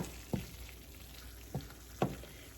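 Ground beef picadillo cooking in a pan with a faint steady sizzle underneath, broken by three soft scraping knocks from a utensil stirring and moving the meat in from the edges.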